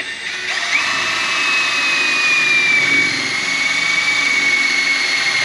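Caterpillar DX13 cordless drill with a graphene battery boring two holes, a steady high motor whine held continuously and loud close by, alone without talk.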